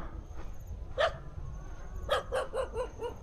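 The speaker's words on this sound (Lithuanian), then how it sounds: "laukiniai šunys" Wild dogs near dunes in Vietnam bark from a middle distance: one bark, then a rapid run of about five barks, all over a low ambient rumble.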